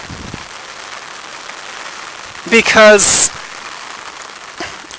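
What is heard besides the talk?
rain falling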